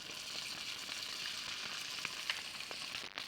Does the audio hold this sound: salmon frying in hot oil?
yes